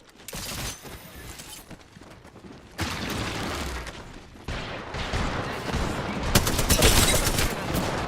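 Video game gunfire, dense bursts of rapid shots and booms building in intensity, loud and near, with mechanical clatter between volleys and no talking.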